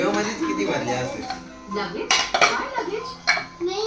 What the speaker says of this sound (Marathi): त्याला आता आपण ओपन करू कुकर.